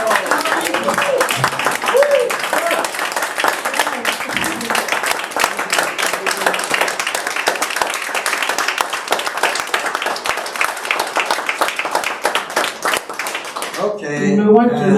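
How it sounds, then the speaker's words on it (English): Steady, dense applause from a crowd fills the room at a UN Day of Peace certificate ceremony, sustained throughout, with a voice briefly heard near the end. "Can we have a round of applause?"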